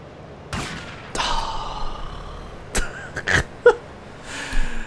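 Gunfire in GTA Vice City with the Tightened Vice hard-mode mod: several sharp, separate shots and short bursts crack out at irregular intervals, with grunts between them.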